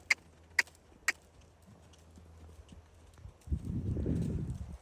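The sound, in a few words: horse cantering, hooves clip-clop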